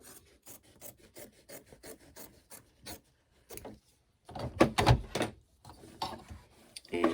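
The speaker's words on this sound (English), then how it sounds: "now we're going to trim that again" Fabric for a quilted table runner being trimmed, a rapid run of rasping cuts followed by heavier, louder scraping bursts near the mic, with no voice.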